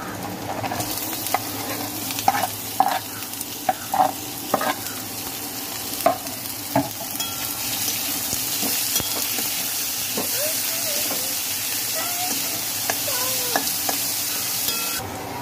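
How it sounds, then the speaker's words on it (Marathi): Chopped onion fries with garlic in a hot pan, giving a continuous close sizzle and hiss broken by repeated clinks and scrapes of a spatula stirring. "हे बघा कांदा असा फ्राय झाला आहे, थोडंसं लाल होऊ देऊया आपण।"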